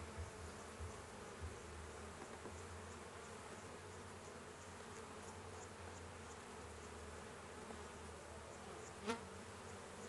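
Honeybees buzz in a steady, dense drone from an open beehive being inspected, close and continuous throughout, with one sharp click near the end.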